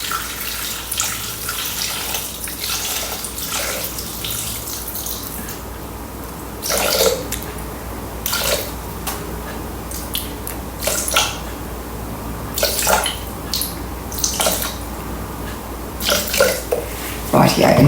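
Water poured into a Thermomix for coconut curry sauce makes a steady trickling and splashing stream with a few louder gushes and drips, close by, while a person talks over parts of it.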